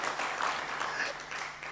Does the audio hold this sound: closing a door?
no